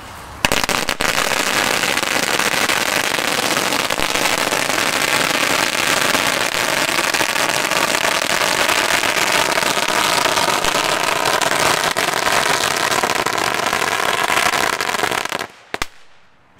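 Fireworks and firecrackers go off in a dense, continuous crackling barrage that stays loud and close for about fifteen seconds, then cuts off abruptly.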